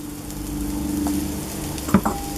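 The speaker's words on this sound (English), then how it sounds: "We're going to start out with our onions and get them going" Onions frying in oil on a flat griddle for cheesesteaks, a steady low sizzle with a couple of brief clinks or scrapes near the end.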